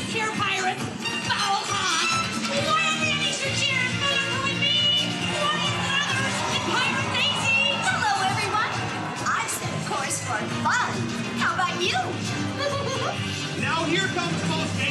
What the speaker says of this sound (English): big Buccaneer cheer for Pirate Donald Duck!